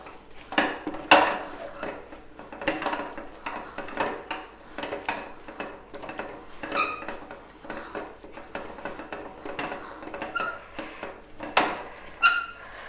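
A utensil scrapes and knocks against a pot as ragi mudde, a thick finger millet dough, is stirred over the flame, giving irregular clattering strokes close by with a voice talking in between.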